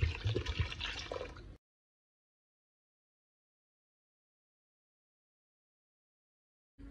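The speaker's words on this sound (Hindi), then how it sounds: "पानी डालेंगे हम इसके अंदर तकरीबन 1 लीटर के करीब" About a liter of water is poured into a cooking pot while preparing Hyderabadi shami kabab, a short close liquid splash and fill lasting under two seconds, followed by silence.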